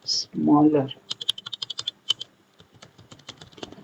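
Python code tapped out on a computer keyboard: a quick run of crisp, close keystrokes that slows to scattered taps near the end, after a short burst of voice at the start.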